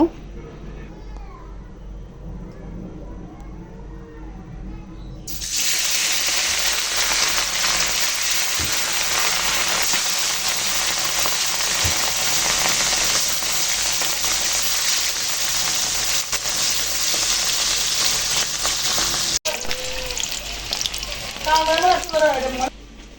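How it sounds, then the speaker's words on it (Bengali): Pieces of rohu fish dropped into hot oil in a wok erupt into a loud, steady sizzle that keeps frying for nearly twenty seconds, with a cat meowing briefly at the end. "তেল গরম হয়ে এসেছে এখন মাছগুলো ভেজে নেব"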